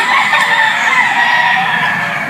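White Jacket gamefowl roosters on a game farm, several birds crowing and clucking together in a steady, overlapping chorus at moderate distance with no talking.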